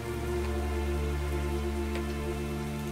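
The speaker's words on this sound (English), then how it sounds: "that rain is really loud now" Steady rain falling in the video game Starbound, a loud continuous hiss of drops that fills the whole clip without a break, alone with no talk.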